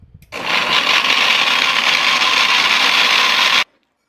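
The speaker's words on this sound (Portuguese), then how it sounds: "E agora, é só bater esses ingredientes no liquidificador por uns 2 minutinhos" Blender running steadily for about three seconds, mixing a bread batter of milk powder, eggs and other ingredients; a loud, continuous whirring motor that starts abruptly and cuts off cleanly, with no talk.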